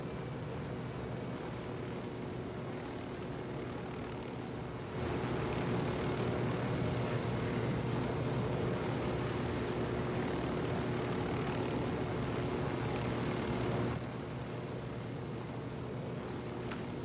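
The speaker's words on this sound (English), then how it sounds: "Drone." A drone in a video game hums steadily overhead with a continuous whirring engine drone. It swells louder through the middle stretch, then settles back to a lower, even level, with no talk.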